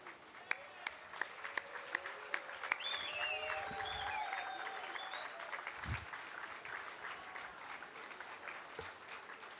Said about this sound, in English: Big round of applause for that performance